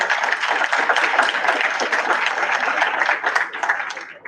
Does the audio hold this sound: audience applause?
yes